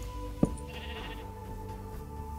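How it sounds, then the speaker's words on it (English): A sheep in a video game lets out a short, sharp bleat near the start, followed by quiet game ambience. "let's shear some sheep"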